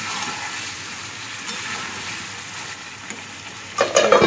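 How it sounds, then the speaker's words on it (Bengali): Meat sautéing in a pan during kosha-style cooking gives a steady soft sizzle and stir, with louder clattering stirring near the end and no voices. "মাংস কষানো চলছে।"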